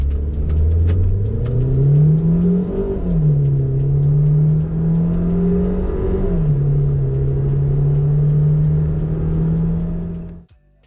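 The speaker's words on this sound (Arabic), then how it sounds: "راح أورجيكم تسارعها من 0 ل 100 كيلومتر بالساعة بوضع سوبر سبورت" An MG HS SUV accelerates hard from 0 to 100 km/h in Super Sport mode, its engine droning and climbing in pitch through two gear shifts before cutting off abruptly, loud and close from inside.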